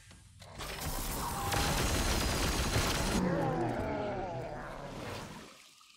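Gunfire and explosions ring out in Warhammer 40k Chaos Gate, a dense, loud barrage of shots and booms swelling over several seconds, then fading, with a voice talking over the battle.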